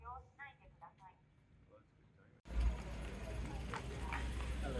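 Police horses' hooves clip-clop on pavement amid loud crowd noise at the Aoi Matsuri parade in Japan, preceded by a quieter moment with a few voices.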